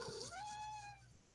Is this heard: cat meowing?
yes